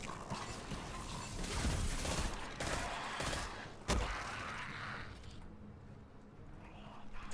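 Rapid gunfire in the video game Destiny 2 as landmine enemies are shot, a dense continuous barrage with one sharp louder crack partway through before it thins out.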